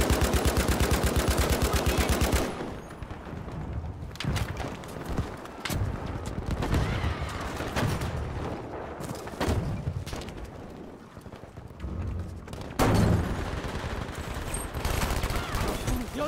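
Rapid bursts of automatic gunfire crackle loudly in Battlefield V, with short pauses between volleys and a few heavier single shots.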